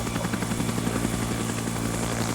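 Helicopter flying in a military video game, a steady loud rotor drone with rhythmic blade chop and engine whine holding throughout, close and continuous with no talk.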